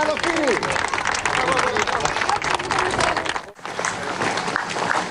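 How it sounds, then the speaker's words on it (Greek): A crowd applauds at the Olympus mountain marathon, dense clapping and cheering with voices talking over it, broken by a brief dip before the applause resumes. "Ένα χειροκρότημα στον Νίκο Καλοφύρη."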